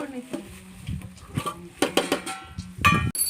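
Kosambari salad being spooned into a container, with soft scraping and clinking of a spoon against dishes in short irregular taps, while people talk nearby.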